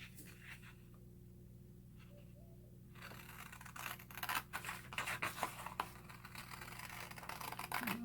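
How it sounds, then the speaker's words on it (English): Scissors cut through a paper file folder, with rapid scratchy snips and rustling that begin quietly and grow busier and louder after a few seconds, close up over a low steady hum. "So get out your scissors."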